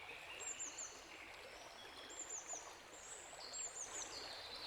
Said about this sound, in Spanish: poco a poco comienzas a escuchar el sonido del agua. Un río tranquilo que fluye con calma.